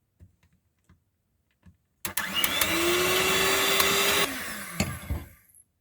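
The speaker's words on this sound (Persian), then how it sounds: "این مرحله رو باید با دور تند همزن بزنید" An electric hand mixer whirs at high speed through raisin cookie batter. A few soft taps come first, then the motor starts abruptly and holds a loud, steady whine for about three seconds before it winds down and stops.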